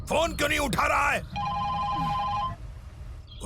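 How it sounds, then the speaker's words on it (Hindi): A telephone rings unanswered with steady repeated electronic tones, starting after a burst of loud shouting and continuing under background noise. "ये फोन क्यों नहीं उठा रहा है?"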